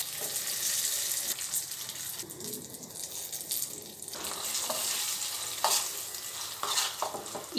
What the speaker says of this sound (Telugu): ఈ పోపు అంతా ఈ చట్నీకి కరెక్ట్గా అప్లై అయ్యేట్టు ఇట్లా తిప్పుకోండి.